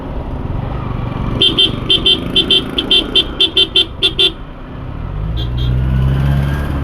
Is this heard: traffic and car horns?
yes